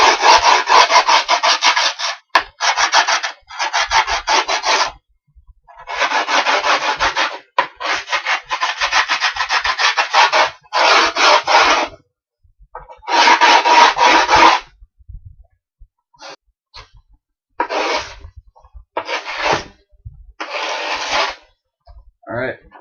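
A screwdriver is scraped slowly around the edges of a skateboard deck over grip tape, giving repeated loud, gritty rasping strokes of varying length separated by short pauses, close to the mic with no talk.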